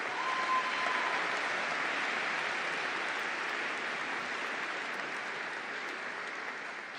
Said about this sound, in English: And one more round of applause, please, for our doctoral candidates this year.